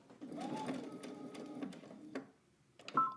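A sewing machine stitches a tiered dress seam with a soft, steady whirr that pauses briefly, then restarts with a short burst; faint and close, with no speech.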